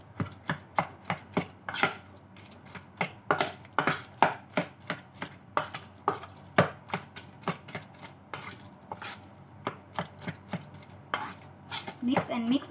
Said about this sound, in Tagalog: Mix and mix and mix until dissolve the salt.